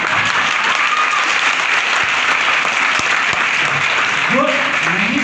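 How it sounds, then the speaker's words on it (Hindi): Audience applause at a motivational talk by Er. Pankaj, steady dense clapping throughout, loud and continuous with a brief murmur of voices near the end. "जो लोग ताली मेरे लिए बजा रहे हैं"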